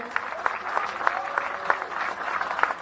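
Steady applause from a crowd at a political rally in Gyumri, Armenia, fairly distant and soft, with a rapid, even patter of claps.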